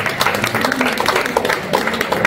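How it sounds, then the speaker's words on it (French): Audience applause for charity volunteers at a cheque presentation for the Vaincre la mucoviscidose association in Nanteuil-lès-Meaux, a steady patter of many hands clapping at moderate volume for a couple of seconds. "on peut peut-être applaudir les gens qui ont travaillé pour ça"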